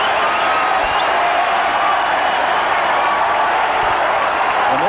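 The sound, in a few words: basketball arena crowd cheering at Rutgers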